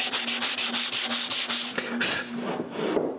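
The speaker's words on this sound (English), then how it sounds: "I removed the varnish with sandpaper" Sandpaper rubbing varnish off an old wooden bed post, a steady run of close, scratchy back-and-forth strokes in a quick even rhythm that falters briefly near the end.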